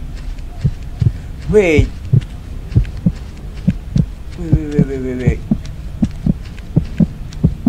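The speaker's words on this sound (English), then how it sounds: "Why is there heartbeat?" A horror video game heartbeat throbs in a steady, low, even pulse about once every half second, thudding continuously beneath the scene while a person speaks and exclaims in alarm over it.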